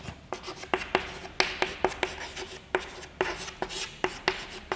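Chalk or marker writing on a board during a physics class, a rapid series of sharp taps and short scratching strokes in uneven rhythm, close and clear with no talk.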